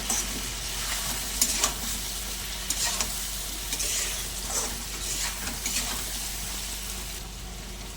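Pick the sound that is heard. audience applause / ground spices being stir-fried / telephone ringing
ground spices being stir-fried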